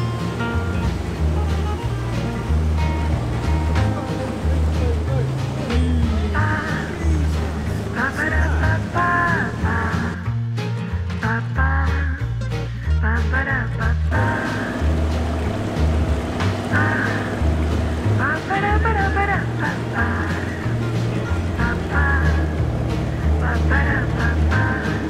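A canal narrowboat runs at full power, its engine a constant low drone under continuous water wash and faint outdoor ambience for the whole stretch, with a brief dip in the middle.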